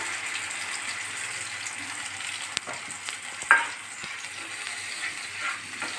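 Ground coriander leaf paste frying in a pan, a steady moderate sizzle with a few stirring knocks and scrapes.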